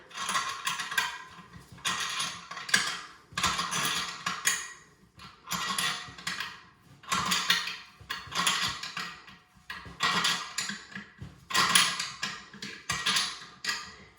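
A wrench ratchets as bolts on a toilet tank are tightened, repeated bursts of quick metallic clicking in an even rhythm with short pauses between strokes, close and fairly loud, no talk.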